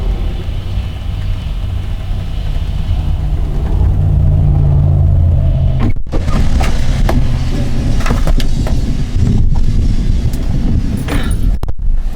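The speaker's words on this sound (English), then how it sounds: "Hear that? That's thunder. We're having a friggin' thunderstorm at 7:30 in the morning." Thunder rolls during a morning thunderstorm as a deep, continuous rumble that swells slightly midway, with a few close handling thumps and clicks on top.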